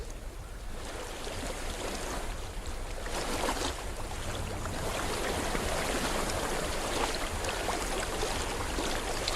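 Steady rushing water fills the scene in Hellblade: Senua's Sacrifice, a continuous broadband wash of flow close by, with no break or voice over it.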